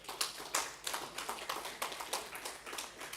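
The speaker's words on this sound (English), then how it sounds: "Can we give him a round of applause?" Audience applause at a wealth summit in the UK for Pastor Neil Adesanya, a short burst of quick, fairly faint overlapping claps at some distance.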